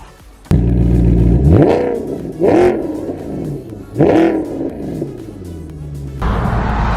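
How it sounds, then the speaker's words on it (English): A 2009 Maserati GranTurismo on its stock exhaust gives three loud, sharp revs that rise and fall in close succession, then settles into a steady idle rumble, heard up close. "This Maserati Gran Turismo, it's 2009. It sounds so good, and it's a stock exhaust."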